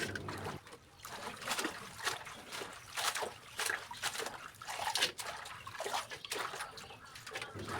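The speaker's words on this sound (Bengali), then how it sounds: "শাক বেশি পানি দিয়ে ধুতে হয়, কারণ শাকের মধ্যে অনেক বালু থাকে।" Red amaranth greens being washed by hand in a basin of water, with repeated soft splashing and trickling in irregular bursts, fairly faint and close, with no talk.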